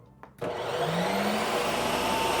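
An ice cream maker switches on abruptly and settles into a loud, steady whirring drone that continues without a break.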